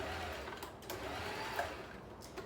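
A Janome sewing machine runs in a continuous, fairly faint mechanical whir, with small clicks and bumps over the hum, and no talking.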